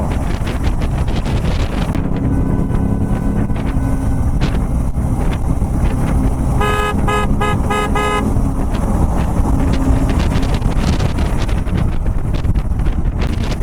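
Riding a Suzuki V-Strom 650 XT motorcycle on a road, a horn gives several quick, loud honks in a row, under steady, roaring wind and engine noise.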